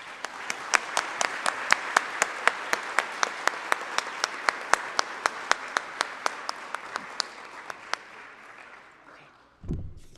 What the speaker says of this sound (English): Please join me once again in applauding these mentors.